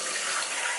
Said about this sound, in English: I'm just rinsing out an ice tray because I want to prep for the best hummus in all the land.